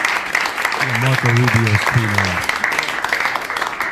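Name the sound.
press applauding at a briefing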